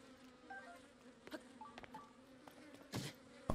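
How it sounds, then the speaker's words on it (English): Bees buzz around a beehive inside a small cave in Zelda Tears of the Kingdom, a faint, low insect drone with brief fluttering flybys and a louder burst near the end. "Oh, beehive."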